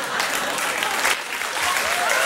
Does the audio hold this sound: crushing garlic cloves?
no